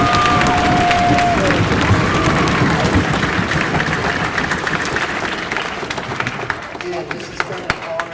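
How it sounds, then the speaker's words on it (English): High school audience in a gym applauding and cheering for a visiting guest and coach, a loud sustained roar of clapping with shouts that gradually tapers off, a voice briefly audible over it. "let's give him one more round of applause as well as our coach."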